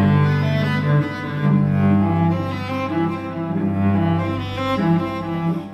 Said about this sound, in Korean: 첼로의 소리를 한번 들려드릴게요